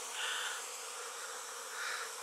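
A steady honeybee buzz hums throughout, swelling slightly near the start and again toward the end, with no voices.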